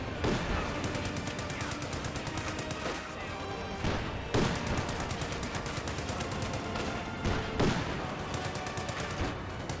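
Dense machine-gun and rifle fire from a Company of Heroes style real-time strategy battle between OKW and Soviet forces, rattling bursts continuing throughout with sharper shots and brief swells, loud and close, with faint voices underneath.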